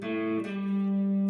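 A guitar sounds a sustained tenth interval with a rich, slightly distorted tone, with a soft pick attack partway through.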